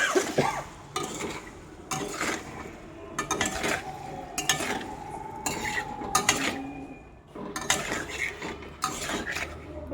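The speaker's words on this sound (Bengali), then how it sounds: "এখানে এগুলোকে একটু ফ্রাই করে নেব।" Paneer pieces with salt and turmeric frying in a pan, with repeated scraping and clanking of a spatula stirring against metal over a soft background sizzle, close and fairly loud, no voices.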